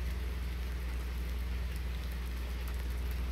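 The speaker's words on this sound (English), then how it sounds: "We'll go ahead and check the road before we start heading with all this rain." Steady rain pours down without pause in the video game Farming Simulator 19, a constant hiss with a low engine rumble underneath and no voices.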